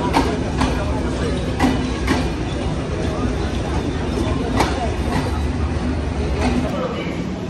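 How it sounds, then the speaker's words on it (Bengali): A train arrives at a station platform with a steady loud rumble and rhythmic clacks of wheels over rail joints, while a person talks over it. "আরেকটা ট্রেন এখন আসতেছে।"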